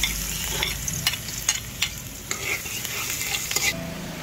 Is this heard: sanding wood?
no